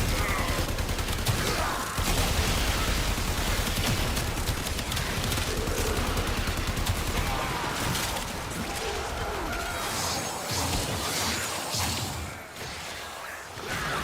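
Dense, sustained AK rifle fire in a video game with unlimited ammo, a loud continuous barrage with whooshes and crashing impacts, while a voice talks over it.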